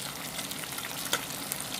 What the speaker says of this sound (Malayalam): അങ്ങോട്ട് വറുത്തുകൊണ്ടിരിക്കുന്നേ ഉള്ളൂ